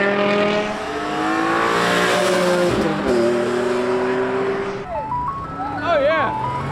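A car leaving a car meet revs hard and shifts gears, the engine climbing in pitch, dropping at each shift and climbing again, loud and nearby, with people talking over it.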